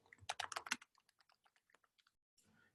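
Rapid keystrokes on a computer keyboard, a dense loud burst followed by sparser, fainter individual key taps, with no talk.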